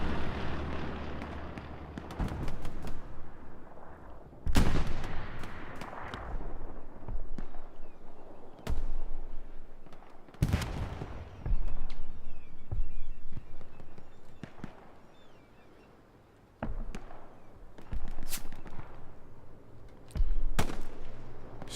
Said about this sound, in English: Strafing run, bombing run combo to help cover it.